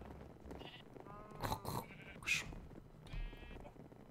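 Sheep bleat a few times in a video game, short wavering cries spaced across the moment with a faint background bed and no talking.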